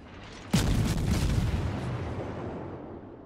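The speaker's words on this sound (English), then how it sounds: "the George is shooting high explosive" High-explosive shells fire from a warship's main guns in World of Warships, a single sharp loud boom followed by a long rumbling decay that fades over about three seconds.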